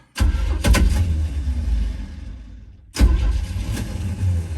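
A 1975 Chevy C10 work truck engine cranks with rapid starter bursts, catches, then stumbles and fades before a second crank fires it back to a loud, rough running rumble, close and alone.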